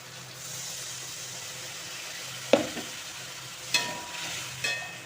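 Hot fish masala in a pan sizzles with a steady hiss, then water splashes in with a sharp burst of sputtering, followed by two more brief surges of bubbling and clinking.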